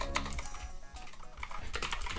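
Clicky keystrokes on a computer keyboard, quick irregular bursts of taps close to the microphone with brief pauses between runs.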